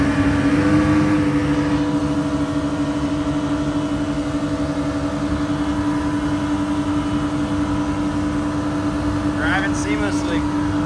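A 2008 Yamaha 212X wakeboard boat's engine drones steadily and builds as it speeds up on the water. The hum is loud and constant with a tonal whine, and brief voices come through near the end.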